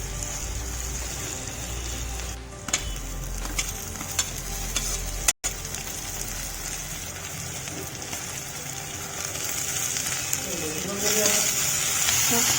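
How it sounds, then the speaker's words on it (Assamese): A ginger and garlic paste fries in a wok with a continuous close sizzle, scattered spatula scrapes and clicks, and one sharp break midway. "এয়া আমি 5-10 মিনিটমান আদা নহৰু মিশ্ৰণখিনি ভালদৰে কেৰাহীত ভাজি আছোঁ।"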